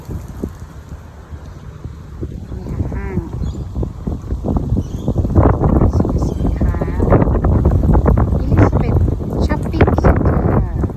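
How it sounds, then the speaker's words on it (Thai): Strong wind gusts at a gas station at Elizabeth Shopping Center in northern Adelaide, buffeting the microphone with a heavy, rumbling roar that grows louder as someone talks over it. "ลมแรง"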